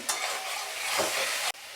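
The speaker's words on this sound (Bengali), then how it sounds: "এবার আর 2 মিনিট ভাজা ভাজা করে নিই।" Spinach, eggplant and peas fry in a pan, giving a short burst of loud, bright sizzling with stirring scrapes. The sound cuts off sharply near the end.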